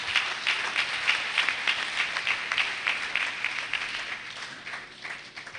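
Conference audience applauding continuously, a dense wash of many hands clapping at moderate volume that fades slightly toward the end, with no talking over it.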